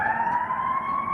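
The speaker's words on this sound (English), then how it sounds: "Hear them sirens?" An emergency vehicle siren wails steadily in the distance, one sustained rising tone with no voices over it.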